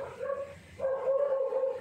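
A dog gives short whiny yips and barks, fairly close and moderately loud, with no one talking.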